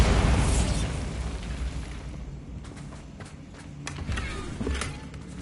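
A Bombarda blasting spell erupts in a Harry Potter video game: one loud booming blast with a long rumbling decay, followed by a few faint clicks and small pops.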